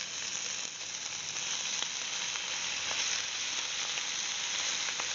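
Ground pork sizzles in a hot, lightly smoking pan, a loud, steady hiss that continues unbroken from start to finish with no voices.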